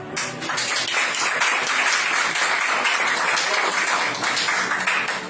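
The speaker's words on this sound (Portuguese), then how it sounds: "Vamos receber a jovem Diaconisa Miriam e as palmas para Jesus" Steady applause from a church congregation greeting a young deaconess at a service, dense clapping sustained throughout at an even, fairly loud level with no talk over it.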